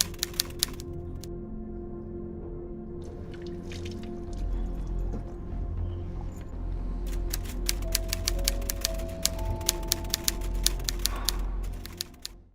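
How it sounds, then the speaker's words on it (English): Typewriter keys clack in quick irregular bursts with occasional carriage bell-like tones, over a steady low hum and background tones, fairly close and continuous throughout. "a piece of audio that was essentially somebody using a typewriter"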